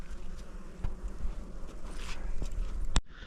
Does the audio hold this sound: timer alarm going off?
no